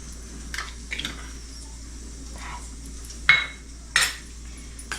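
A spoon stirs chicken gravy in a pot, making a few scattered scrapes and two sharper metallic knocks against the rim, close and otherwise quiet, with no speech.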